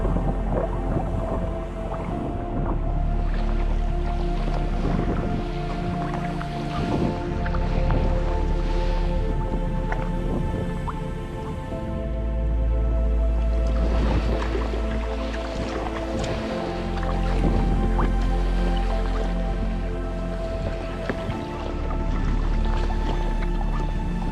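Sea kayak paddled on a winter sea off Scotland's west coast: rhythmic paddle splashes and drips over lapping water and a steady low rumble, close and continuous without talk.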